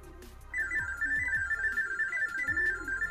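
A washing machine's Smart Diagnosis mode, started by holding the temperature button, plays a steady series of rapid data tones for a mobile phone to read, loud and continuous after a brief pause, with faint background clatter and no talk.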